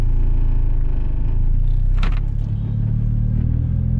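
A turbocharged Chevrolet HHR drives with a loud, steady low engine rumble heard close up, and a brief whooshing hiss rises in the middle, with no talking.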